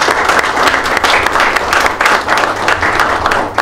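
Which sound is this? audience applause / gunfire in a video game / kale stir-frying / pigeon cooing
audience applause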